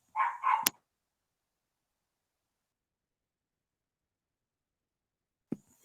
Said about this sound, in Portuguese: Os cachorros estavam latindo aqui.